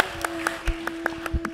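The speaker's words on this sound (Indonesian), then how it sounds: "Tepuk tangan." A few people clap slowly at an awards show, the claps spaced and uneven while a steady tone hums underneath throughout.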